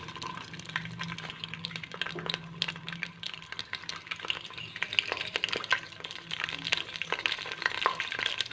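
Okra (bhindi) fries in oil in a kadhai, a soft steady sizzle dotted with crisp crackles and light stirring clicks, heard close up and without voices.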